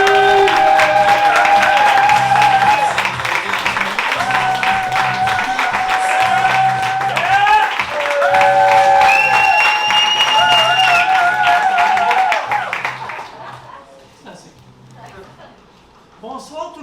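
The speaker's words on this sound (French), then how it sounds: "faites un tonnerre d'applaudissements pour Timothy Toxic!" A stand-up comedy crowd applauds and cheers as comedian Timothy Toxic walks on, the clapping blended with loud tonal entrance music that plays strongly for several seconds, then fades out and leaves a quieter room.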